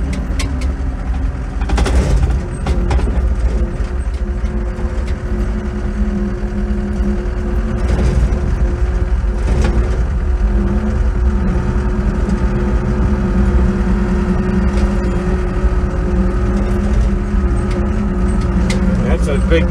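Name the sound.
tractor engine driving down a steep driveway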